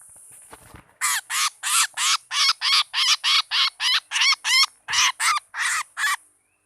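A kancilan emas (burung bimoli) bird calls close by, giving a loud, rapid series of about fifteen harsh, evenly spaced notes with a brief pause near the end.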